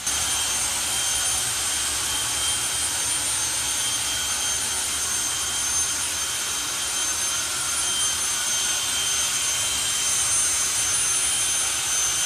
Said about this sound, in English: the afterburner show conducted by the frontman Richie. About to take place